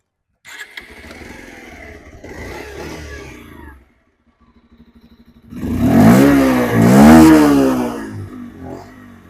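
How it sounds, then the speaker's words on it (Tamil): A 2025 Bajaj Pulsar 125 motorcycle engine idles roughly with clatter, drops out briefly, then revs up hard twice in loud rising and falling bursts, close by. "நம்ம இப்போ இன்ஜினோட த்ராட்டில் வேஸ் கேட்போம்."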